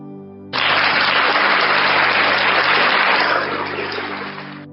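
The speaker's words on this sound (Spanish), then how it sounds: "Tenemos aplausos" An audience bursts into dense, sustained clapping at an evening talk, starting abruptly and holding steady for several seconds before easing slightly at the end.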